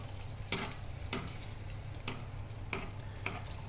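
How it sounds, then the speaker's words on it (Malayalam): Egg pathiri sizzles in hot oil with a steady crackle, punctuated by regular soft stirring or scraping strokes roughly every half second as hot oil is spooned over it. "തിളച്ചെണ്ണ ഇങ്ങനെ ഒഴിച്ചു കൊടുത്താൽ നല്ലതാ"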